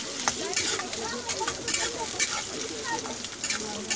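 Chopped onion, beans and carrot stir-fry in a pan with a steady close sizzle and frequent scraping clicks from stirring, continuous and fairly loud throughout with no voices.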